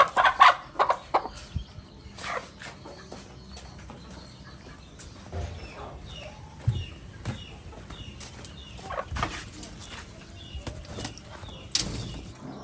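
Soft, scattered clucking from a hen with faint chick peeps, a few brief wing flaps and rustles, recorded up close in a quiet setting.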